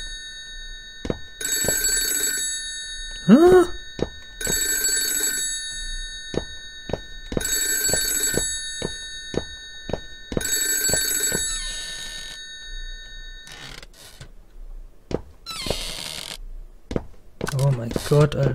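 A telephone rings inside a horror video game, its bell sounding in about five evenly spaced bursts amid clicks and footsteps, with a brief startled voice partway through.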